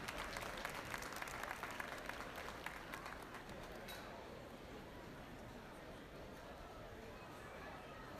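Applause from an audience at a junior market swine show, a dense steady patter of many hands that is fuller for the first few seconds, then thins to a quieter continuous clapping.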